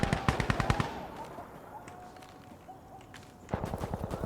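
Automatic rifle fire in the video game Insurgency: Sandstorm, two quick bursts of rapid evenly spaced shots separated by a few seconds of quieter ambient lull.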